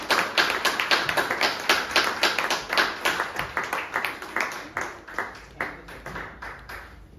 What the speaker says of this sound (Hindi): तो मैं चाहूंगा एक बार कुणाल जी के लिए जोरदार तालियां